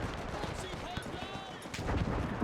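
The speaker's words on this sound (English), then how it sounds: "The enemy is returning fire." Dense gunfire in a World War One battle game, rapid overlapping rifle and machine-gun shots with distant booms, loud and continuous throughout.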